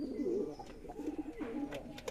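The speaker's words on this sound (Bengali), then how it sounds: "এই দেখুন কবুতরগুলো সবই ডাকাডাকি করতেছে" Domestic pigeons on a small home farm coo steadily in low, throaty rolling phrases, several birds overlapping close by, with a few faint higher chirps near the end.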